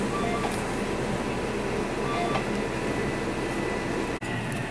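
A steady, dense rumbling clatter of an HO scale model train running continuously along track, with no pause and no talking.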